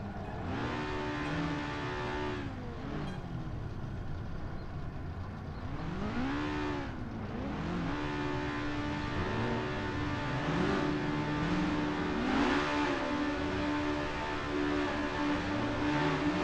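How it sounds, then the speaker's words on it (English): Formula race car engines roar in a racing video game at the start at Zandvoort, a steady loud drone with rising and falling revs from several cars together, no talk. "As the engines roar to life"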